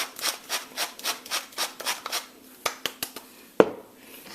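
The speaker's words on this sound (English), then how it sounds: "I'm going to crank in that fresh ground black pepper in there" Pepper mill cranked by hand to grind fresh black pepper into a bowl of butter, a steady series of rhythmic rasping grinds followed by a few light clicks and a sharp knock, close and alone.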